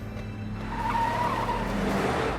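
A car driven fast lets out a long, loud tire squeal as it skids, with the engine roaring beneath it in a short, intense burst.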